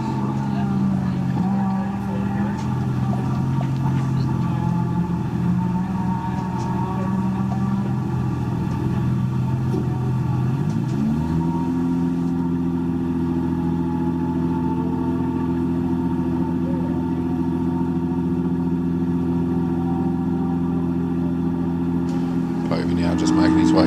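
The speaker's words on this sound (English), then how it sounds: "Mark Povey now leaving the line in his Datsun Stanza" A Datsun Stanza race car in the improved production up to 2000cc class at a hillclimb start line holds a steady, droning engine note. Partway through, the pitch steps up as it pulls away, while a commentator talks throughout.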